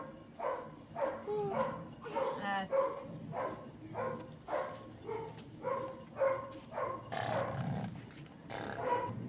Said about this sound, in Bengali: ওই কুকুরটাকে শুনতে পাচ্ছে